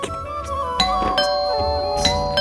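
Doorbell ringing indoors in a home, a few bright chiming tones repeating over roughly two seconds, fairly clear against quiet room tone with no talk.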